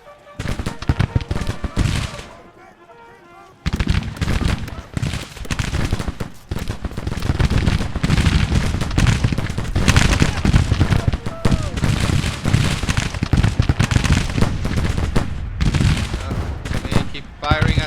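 Heavy volleys of musket and cannon fire crackle and boom almost continuously in a Grand Tactician battle for Saint Louis, loud and layered, briefly dropping away before resuming, with voices heard beneath the din.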